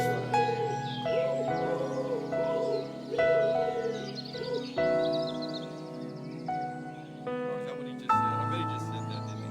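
Birdsong woven into a track from an album: chirps and calls sit among sustained instrumental and vocal music, while people talk over it.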